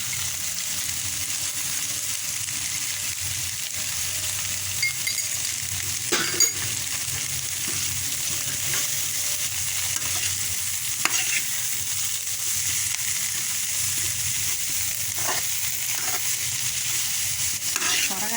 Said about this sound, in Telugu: ఉల్లిపాయలు వేగినాయి అంటే ఇంకా వేగిపోయింది తొందరగా వేగిపోతుంది